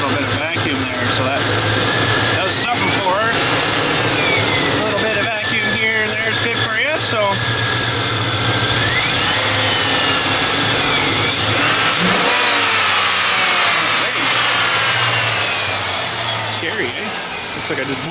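A 2001 GMC 1500 pickup's 5.3 V8 engine runs close up with the hood open, idling unevenly and revving as if near stalling, with occasional talk over the steady mechanical drone.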